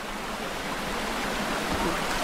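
Waterfall in the video game Far Cry Primal, a steady full-band rush of falling water that stays loud and constant throughout with no talk over it.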